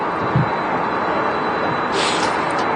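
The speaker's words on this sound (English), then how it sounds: "I can hear some really nice engines on the taxi." A Boeing 767 with CF6 engines taxiing at an airport, a steady loud jet engine roar with a brief higher whine near the end.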